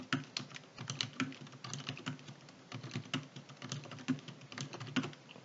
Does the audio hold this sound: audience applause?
no